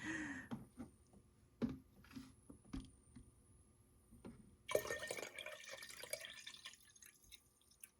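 Vinegar is poured into a container while mixing a fast rust solution: a soft, steady liquid pour with light splashing starts about halfway through and follows a few quiet drips and handling knocks.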